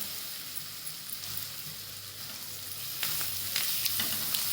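Onion fries in oil for a Maharashtrian village-style kanda pithla. A soft, even sizzle continues throughout, and light stirring clicks and scrapes join in during the second half.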